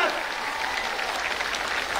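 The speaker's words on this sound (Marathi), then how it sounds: "आपण जोरदार टाळ्या वाजवायच्या" Dense, steady crowd applause fills a welcoming ceremony at Narayangad for a math head, Laxman Maharaj Mengde, sustained and fairly loud from start to end.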